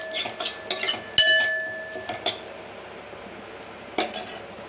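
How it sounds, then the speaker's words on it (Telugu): Spoon clinks and scrapes against a metal pot while pepper rasam masala with asafoetida is stirred, a few sharp metallic taps followed by quieter scraping, close by with no talk. "ఇది ఒకసారి కలుపుకుందాం."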